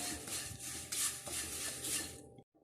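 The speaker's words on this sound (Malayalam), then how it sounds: "എന്നിട്ട് നന്നായിട്ട് ഇളക്കണം." Fried poha chiwda tossed with salt is stirred in a pan, producing a continuous dry rustling scrape with rhythmic surges as the flakes shift, ending abruptly in silence.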